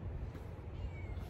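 A cat meows softly once or twice, fairly faint against a low background rumble, with no voices.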